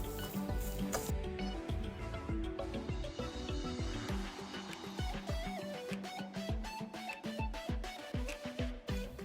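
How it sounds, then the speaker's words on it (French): Flour and hot water are stirred together in a bowl to make gyoza dough, giving a steady run of close scraping and tapping strokes against the bowl, with a utensil clinking rhythmically. "On va bien ajouter à la farine et on va bien mélanger."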